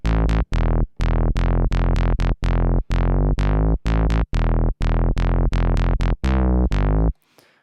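Soloed sub bass synth line in a future house track built in FL Studio, loud, deep sustained notes in a choppy rhythmic pattern with brief cuts between them, ending in a short silence.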